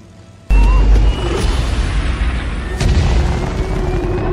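A loud boom as trucks crash into an oil tank and explode in an action film, followed by a sustained roaring blast with a second burst partway through.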